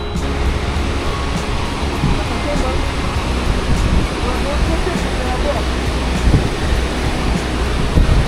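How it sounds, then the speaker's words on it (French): Waterfall in Iceland roaring as a steady, dense rush of falling water, loud and continuous with no breaks. "Ça c'est de la cascade."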